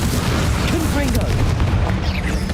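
A Confringo explosive spell goes off in Hogwarts Legacy amid a dense, loud battle din, with booming blasts and a voice mixed into the constant roar.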